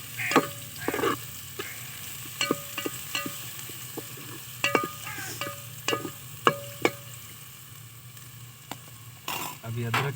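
Garlic paste, pounded and added with ginger for chicken pulao, sizzles in a pan under a steady hiss, punctuated by frequent sharp metallic clinks of a spoon stirring and scraping.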